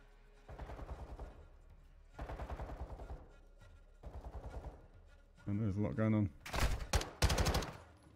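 Gunfire from the Call of Duty: Modern Warfare 2 campaign: a few loud, sharp bursts of shots close together near the end, after earlier stretches of voices and other game sound.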